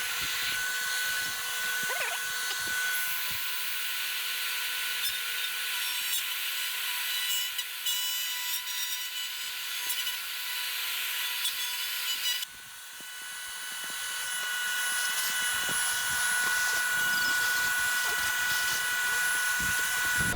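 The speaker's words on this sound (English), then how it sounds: "So I'll have to route it and then remove the template" A wood router cuts the neck pocket of a guitar body along a template, giving a loud, continuous high-pitched whine with shifting cutting noise. The sound changes abruptly about midway through, and there is no talking.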